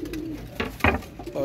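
A green pigeon coos nearby with soft, low throaty calls, brief and close.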